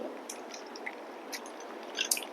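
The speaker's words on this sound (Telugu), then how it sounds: "ఇలా చింతపండు పులుసు చక్కగా పిసికి" Tamarind pulp squeezed by hand in water for pepper rasam: soft wet squishing and squelching, close and quiet, with small crackly bursts toward the end and no voices.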